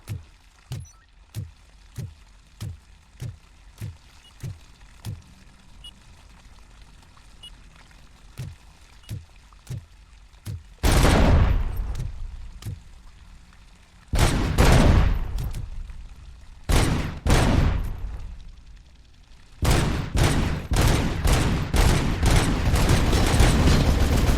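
Enemy turret fire in the video game Robocop Rogue City: a steady run of sharp single shots, then loud overlapping bursts of automatic gunfire in heavy clusters, close and dominant with no talk.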